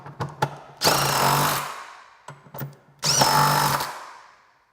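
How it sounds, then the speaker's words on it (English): A power tool in two loud bursts drives in the center nuts with a 15mm socket and the outer bolt with an 18mm socket while fitting an MT-82 transmission part on a 2011-2014 car. Short clicks come before each burst. "with the 15mm socket, draw up the 2 center nuts, then switch to the 18mm socket and draw up the outer bolt"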